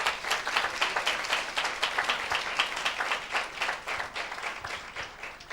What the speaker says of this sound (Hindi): क्या जोरदार ताली दे सकते हैं?